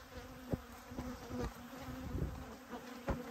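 Honey bees buzz steadily inside an abandoned hive, a close, continuous drone with a few louder passes as individual bees fly near.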